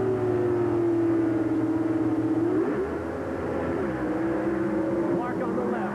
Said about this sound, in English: Clark on the left, Haas on the right. Haas with 600-inch horsepower.